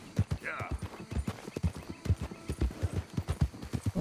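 Horse hooves clip-clop at a steady walking rhythm in Red Dead Redemption 2, with a brief whinny near the start and someone talking over the footsteps.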